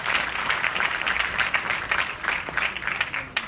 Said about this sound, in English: Can we have a huge round of applause for our young graduates?